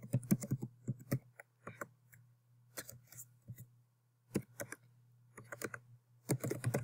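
Fingers type on a computer keyboard while filling in a registration form, producing quick, close bursts of crisp key clicks separated by short pauses, with no speech.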